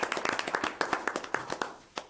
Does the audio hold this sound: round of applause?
yes